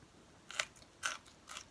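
Three crisp crunches of fern shoots being bitten and chewed, evenly spaced, close to the mic in a quiet room.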